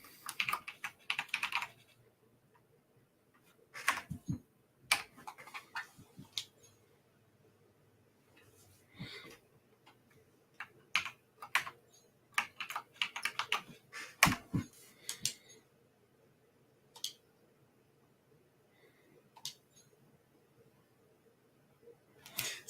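Rapid clattering keystrokes on a computer keyboard come in irregular bursts with pauses between them, close and fairly quiet, while a soft voice occasionally talks in the background.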